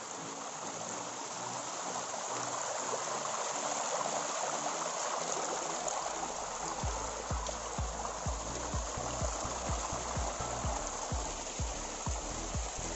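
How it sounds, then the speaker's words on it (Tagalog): A flowing stream gives a steady, close rushing wash of water throughout, with soft low thumps of handling or footsteps joining in the second half. "Yan yung ilog."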